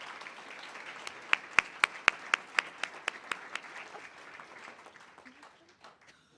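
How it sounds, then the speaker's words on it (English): An audience at a Spartanburg District 5 school board meeting applauds the Rebel Regiment Marching Band: steady clapping with a few sharp, loud claps near the start, then a gradual fade. "Can we give a big round of applause for our Rebel Regiment Marching Band?"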